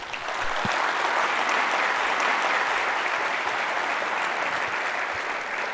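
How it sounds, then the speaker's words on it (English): An audience at the close of a panel discussion at the Hinton Lectures claps in a steady, dense round of applause that stays loud and even from start to finish. "Let's give them a round of applause."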